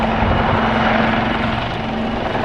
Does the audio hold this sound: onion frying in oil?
no